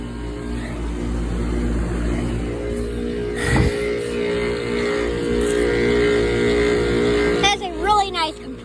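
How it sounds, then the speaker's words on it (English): A Carrier heat pump compressor runs outdoors in freezing air, giving a steady low hum with a layered mechanical drone throughout, briefly punctuated by a thump and some rattling and squealing near the end. "Compressor. That's a great sound."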